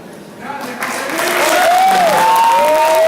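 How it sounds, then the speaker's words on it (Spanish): Applause and crowd noise at a tribute event at the Crack Bang Boom 2018 comics convention swell steadily, growing louder, with a few whistle-like tones rising above the clapping. "gran aplauso."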